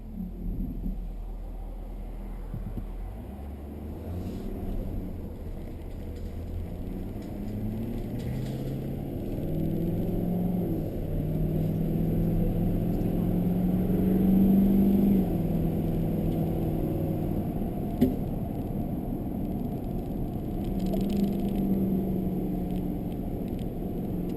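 Heard from inside the cab, a 2017 Ford F-250 6.7 pickup towing 12,000 lbs rumbles steadily. The engine drone builds and eases as it changes gear on a rural road, with no talking over it.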